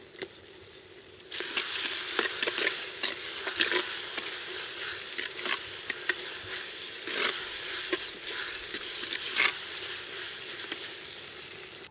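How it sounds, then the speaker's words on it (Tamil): Ginger garlic paste and green chilli sautéing in a clay pot for a North Indian fish curry: a quiet start, then a steady loud sizzle with frequent sharp crackles and pops, no voices. "இஞ்சி பூண்டு சேர்த்து நல்லா வதக்கி விட்டாச்சுங்க"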